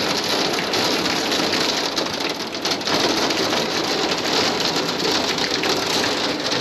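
Hail and hard rain pour down during a thunderstorm, a steady, loud, dense hiss and patter that holds unbroken with no voices.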